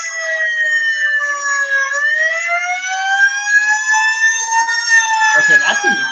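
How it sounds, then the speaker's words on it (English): Wailing emergency sirens rising and sliding in pitch, loud and continuous, with a brief burst of other noise near the end. "Stop it with the sirens, man!"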